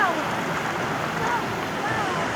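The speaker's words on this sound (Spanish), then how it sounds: "Como ustedes ven ahí, una cascada maravillosa" A large waterfall with several drops in Guaranda, Bolívar province, Ecuador, roars as a loud, steady broadband rush that stays constant throughout, with no voices over it.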